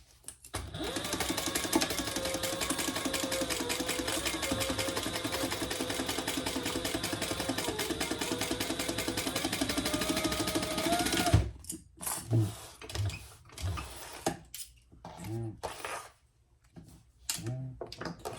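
A sewing machine stitches a shoulder-bag seam in one long, fast, even run of rapid needle clatter, close and steady, then gives way to short start-stop bursts separated by quiet gaps.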